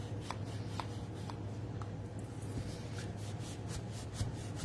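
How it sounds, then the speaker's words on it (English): A bone folder pressed and rubbed across card paper while assembling a three-cube box card, giving soft, faint scraping and brushing strokes over a steady low background hum. "I'm going to use my bone folder just to press it down"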